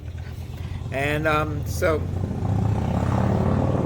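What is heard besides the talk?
motorcycle passing by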